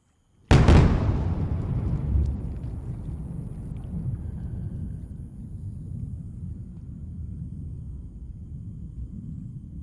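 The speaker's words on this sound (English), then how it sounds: "And a good touchdown of the booster." SpaceX Falcon booster B1078 lands for the 13th time with a sudden sharp boom, followed by a long, low rumbling roar that slowly fades under light wind noise.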